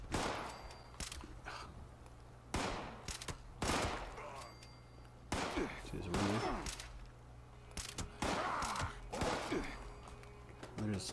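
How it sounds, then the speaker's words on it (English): Gunfire in a video game, a series of sharp, separate shots spaced roughly a second apart, with some closer together, each punchy against a low steady hum, with faint breathy vocal sounds between them. "There's still somebody else shooting at me."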